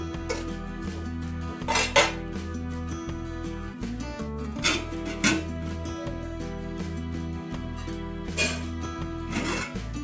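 Spoon scraping and clinking against a pot while stirring mint chicken pulao, several sharp metallic knocks and scrapes over continuous background music, ending with clatter like a lid set on.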